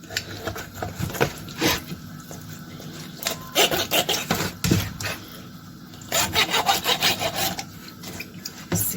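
A knife repeatedly pierces a whole raw chicken seasoned with flour and salt, making a close series of irregular scraping, poking and rubbing bursts with short pauses between them.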